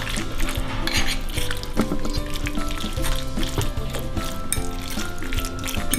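Semi-soft cheese being stirred into a mixture in a bowl or pan, with repeated clinks and scrapes of a utensil against the dish over a soft wet churning, close and continuous.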